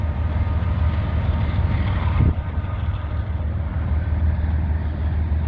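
Trains rolling past at Canal Ridge Road, a loud, continuous low rumble close by that swells briefly partway through, with no talk.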